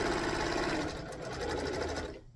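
A sewing machine runs steadily, stitching a quilt strip along diagonal seam tape, its fast even whir continuing close up until it stops near the end.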